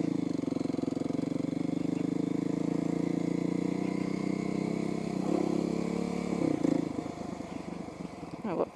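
A new motorcycle's engine runs steadily at idle with a low, throbbing hum and faint rattle, loud and close throughout, with a few louder bursts near the end.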